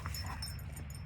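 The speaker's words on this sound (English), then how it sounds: "Yes, you're a good dog." A dog whimpers faintly with soft, thin whines at close range over low background hum, very brief and quiet.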